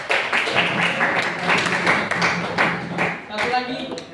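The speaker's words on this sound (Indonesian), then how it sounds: "Tepuk tangan." Students in a classroom clap together for a few seconds, a quick patter of hand claps close by with some voices mixed in.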